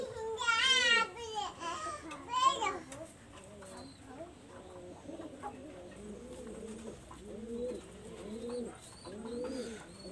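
A pair of Shiyalkuti pigeons cooing in soft, repeated rolling phrases. Higher voice-like calls come briefly at the start, and then the quiet coos continue.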